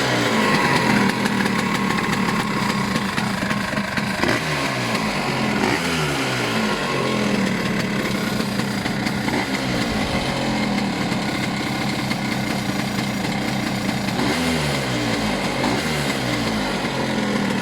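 A Vespa-style scooter engine fitted with a Pinasco 215 kit and carburettor runs on grass, its loud, steady two-stroke drone holding throughout with slight revving swells and no talk.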